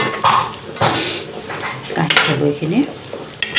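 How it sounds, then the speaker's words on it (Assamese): Ingredients for carrot halwa lightly frying in a pan, a soft continuous sizzle with stirring and utensil scrapes against the pan, while someone speaks briefly over it. "বেছিকৈ নাভাজোঁ, অলপকৈ ভাজি দিছোঁ"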